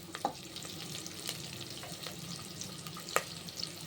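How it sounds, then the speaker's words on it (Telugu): Pongal ingredients frying in a pan, a faint steady sizzle with occasional light stirring clicks, close but quiet, and no one speaking. "ఇది ఒక 2 మినిట్స్ వేయించుకోవాలి."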